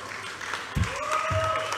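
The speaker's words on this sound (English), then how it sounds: "Another round of applause for the Kill." Audience applause at a fight event, a steady wash of clapping at moderate level, with a sustained tone and a few low thumps running through it.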